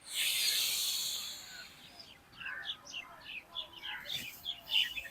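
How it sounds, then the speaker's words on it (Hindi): Birds chirp outdoors in short, scattered high tweets that come in bursts after a soft hissy opening, fairly faint and close to moderate in distance, with no talking. "ये परिंदों की चहचहाट, ये आपको खिलने का पैगाम दे रही है।"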